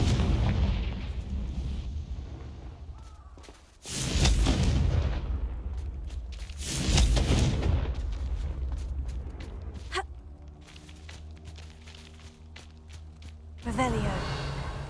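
Confringo fire spells blast again and again in Hogwarts Legacy: heavy booming explosions land at intervals with rumbling tails, and a voice speaks between the blasts.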